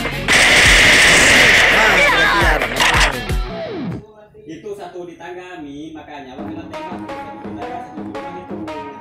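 Rapid automatic gunfire in Free Fire rattles loudly and continuously for the first few seconds. It then breaks off into quieter scattered clicks and movement sounds while people talk.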